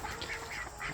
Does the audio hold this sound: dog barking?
no